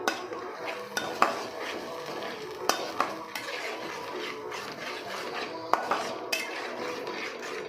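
A spatula stirs and scrapes a ground herb, ginger, garlic and chili paste frying in a pan, with scattered clinks of metal on the pan over a soft steady sizzle.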